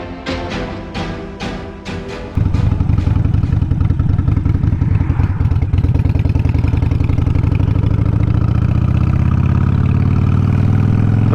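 A Harley-Davidson Sportster Iron 883 engine pulls as the bike gets under way. After a few spaced throttle blips, a loud, steady, close rumble rises in pitch as the motorcycle accelerates, with no talk.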